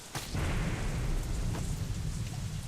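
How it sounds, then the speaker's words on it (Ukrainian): Steady rain falls in the video game Deadlight, set in a Seattle junkyard, a dense hiss that fills the scene without a break from start to finish. "Пішов дощ."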